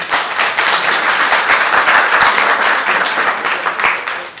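Audience applause at a Hindi stage play performance, a dense sustained wash of clapping that stays loud and steady throughout.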